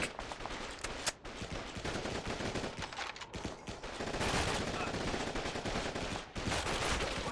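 Enemy gunfire in Call of Duty 2, a dense stretch of machine-gun bursts and rifle shots crackling continuously, loud and close, with brief gaps between volleys and no talk.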